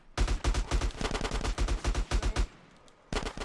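AK rifle fire in GTA San Andreas on PS2, rapid sharp bursts of automatic shots, loud and close, broken by a brief pause before one more burst.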